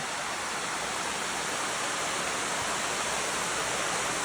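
Water rushing steadily into a stone tunnel entrance in Annalong Wood, a loud, continuous broadband roar like a small waterfall with no breaks and no voices.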